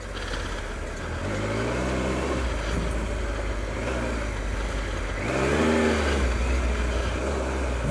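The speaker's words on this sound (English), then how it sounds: "I'll spin up the rear tyre a bit" Adventure motorcycle engine revving steadily as its rear tyre spins on a muddy winter trail, a continuous loud drone with rising pitch sweeps near the middle and again toward the end.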